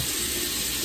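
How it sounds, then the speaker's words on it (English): Tap water runs steadily into a sink during handwashing with soap, a close, constant hiss with no talking. "So first you're gonna start off by washing your hands with soap and water"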